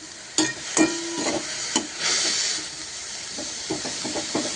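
Fenugreek leaves sauté in a pan over low heat, a hissing sizzle under several sharp spatula clacks and scrapes, heaviest early and then settling into softer stirring, with no voices.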